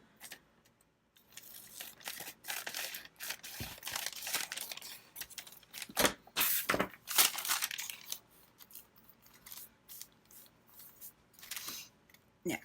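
Paper being cut with scissors to make small pockets for a journal, snipping and crinkling in irregular close-up bursts with brief pauses between cuts, no talking.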